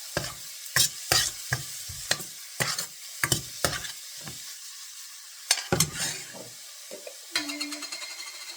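Onions cooking in a pan for pav bhaji, with sharp spatula taps and scrapes in quick bursts, quieter gaps between them, and a soft sizzle that grows near the end.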